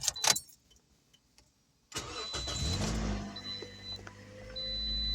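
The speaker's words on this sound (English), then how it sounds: "let's turn the vehicle on and let's see what we got" A 2009–2013 Toyota Corolla is started after a short quiet pause: the starter cranks, the engine catches and settles into a low steady idle, with a thin electronic whine from the dashboard above it.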